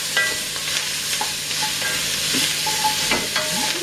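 Ingredients added to a browning gumbo roux sizzle steadily while a spoon scrapes and stirs the pot, with occasional clinks over the constant fry.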